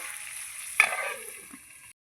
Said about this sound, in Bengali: একটু হলুদ দিয়ে আলুটাকে লাল লাল করে আমি ভাজবো